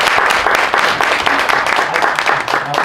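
An audience at a business lecture in Gwangju breaks into steady, dense applause, with many hands clapping together at close range for a short stretch and no talk over it.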